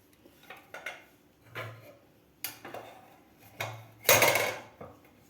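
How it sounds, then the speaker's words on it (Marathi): A pressure cooker lid being opened after the cooker has cooled from cooking Maharashtrian green pea rice: several separate metallic clanks and scrapes, ending in a louder rattling clatter near the close. "आता आपण झाकण काढून बघूया."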